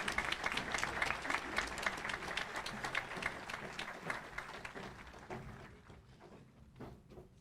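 An audience at a 2025 high school commencement ceremony applauds loudly, a dense sustained clatter of hands that thins out and fades over the last couple of seconds.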